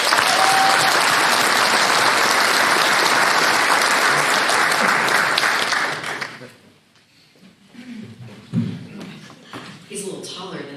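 An audience at a graduation ceremony gives a warm round of applause as a congresswoman comes to the podium, loud sustained clapping for about six seconds, then fading into scattered claps, shuffling and a voice starting to speak.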